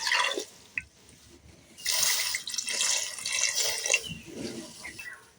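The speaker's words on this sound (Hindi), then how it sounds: "अब इसमें हम पानी डालेंगे" Water poured into a pressure cooker holding dried peas and potatoes, heard as close splashing and gurgling in a few bursts that swell and fade, with no talking.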